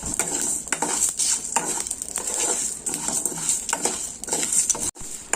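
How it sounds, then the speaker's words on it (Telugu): Pav bhaji masala spices dry-roasting in a pan, with a spoon scraping and clinking against the metal in steady repeated strokes under a faint continuous sizzle, close and moderately loud. "సో ఇలా బాగా మనం ఫ్రై చేసుకోవాలి."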